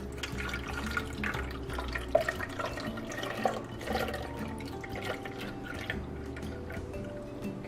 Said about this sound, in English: We're going to add in our milk and cream mixture.